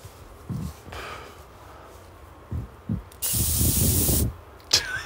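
A can of cooking spray lets out one sustained, close hiss of about a second, framed by soft handling thumps and bumps in a quiet room.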